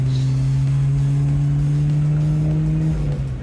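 A Rover Metro car fitted with a long life exhaust runs close by with a steady, humming drone that sags slightly toward the end, heard alone with no talking.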